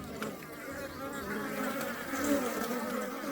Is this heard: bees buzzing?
yes